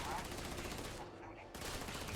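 Rapid automatic gunfire in the video game Starfield, a sustained burst of shots that briefly drops out mid-clip before resuming, faint and distant-sounding.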